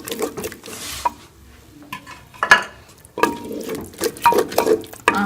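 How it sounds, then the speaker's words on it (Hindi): Saag greens stirred and fried in spices in a pan, with a spoon scraping and clinking against the metal in irregular strokes over a light sizzle, close and fairly loud. "हमें साग को अच्छी तरह से मिक्स कर लेना है इसमें और इसको मसाले में 4 से 5 मिनट भून लेना है।"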